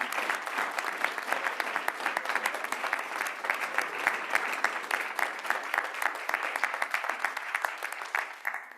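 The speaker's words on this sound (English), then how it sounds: "Another round of applause for Shannon." Sustained applause from an audience at a Bountiful City Council regular session, steady dense clapping filling the room for several seconds at fairly close range with no talk over it.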